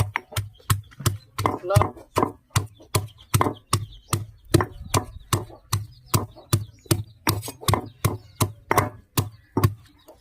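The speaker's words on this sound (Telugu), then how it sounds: "చింతకాయలు వేసుకొని దంచేసుకోవాలి ఫ్రెండ్స్" Tamarinds and green chillies are pounded by hand, about twenty sharp, heavy thuds in a steady rhythm, close and loud, while a voice speaks between some of the strokes.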